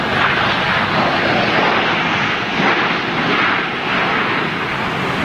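An aircraft at Munich Airport produces a loud, broad, steady engine roar that swells slightly and fades, heard close with no talking.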